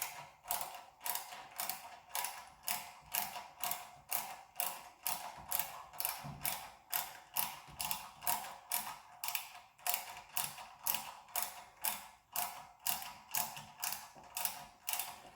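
Ratchet wrench tightening nuts while a Holley fuel pump is installed, a steady run of quick, regular clicking strokes, close and alone, repeating evenly for the whole stretch.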